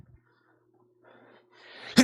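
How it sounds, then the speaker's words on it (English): A quiet breath builds up, then ends in a single sharp, loud sneeze at the very end. "about to sneeze"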